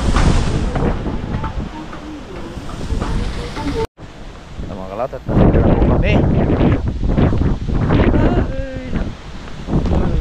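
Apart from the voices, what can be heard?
strong wind outdoors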